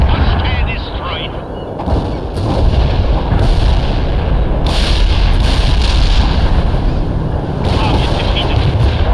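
A heavy artillery barrage pounds away in the video game World in Conflict, with dense, loud booms and blasts rolling almost nonstop and a brief radio-style voice over the battle din.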